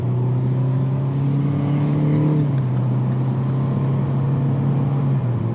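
A 2020 Hyundai Venue's engine drones at high RPM from inside the cabin, its steady tone rising and then dropping slightly as a simulated gear shifts, loud and continuous, with no talking.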